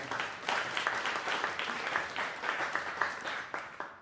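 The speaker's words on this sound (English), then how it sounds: "let's give them a big round of applause as well" An audience applauds warmly, dense clapping that swells in a steady rhythm and holds for several seconds.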